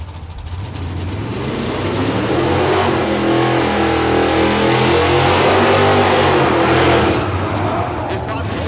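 Naturally aspirated small block Chevrolet Camaro drag racing at Texas Motorplex in Ennis, Texas, its loud engine roaring and revving steadily down the strip for several seconds, with a faint announcer voice underneath, tailing off near the end.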